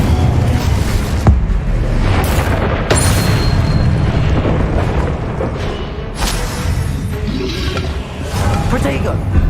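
A fire spell is cast in Hogwarts Legacy with a loud, dense burst of roaring flame and rumbling effects, booming continuously with sharp cracks layered over the game's sound mix.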